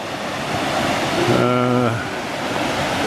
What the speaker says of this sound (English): I don't know what the river is, but it's obviously flowing into ULLSWATER